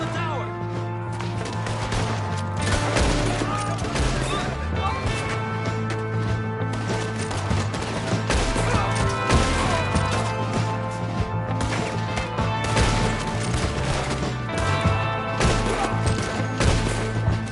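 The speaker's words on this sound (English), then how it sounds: "We got one shooting from the tower!" Gunfire and crashing impacts fill a battle from Red Dead Redemption 2 on PS4 Pro, a shot fired from a tower among them, dense and continuous over a steady music bed, with shouted voices mixed in.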